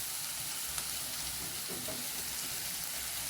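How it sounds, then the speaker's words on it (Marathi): Chopped ginger sizzles in a pan of oil for homemade chilli paneer, a soft, steady frying hiss with faint stirring clicks, quiet and close. "अद्रक टाकल्यानंतर पुन्हा फ्राय करून घ्यायचं आहे"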